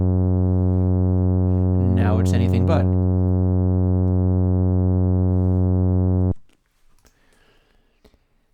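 A steady, buzzy tone rich in harmonics, a sine wave distorted by the Airwindows Shape plugin, drones for several seconds before cutting off abruptly; a voice speaks briefly over it.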